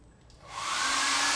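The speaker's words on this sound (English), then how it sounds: "Hairdryer?" A hair dryer in a hotel room switches on and ramps up into a loud, steady, airy whoosh with a faint whine, close by and without voices.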